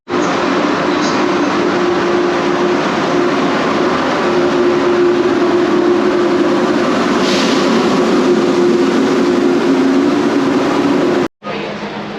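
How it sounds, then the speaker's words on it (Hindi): Interior of a high-speed train in Italy, a loud continuous rumble and rush of travel noise that holds steady throughout, with a brief dropout near the end. "तो बैठ गए अपनी हाई स्पीड ट्रेन में।"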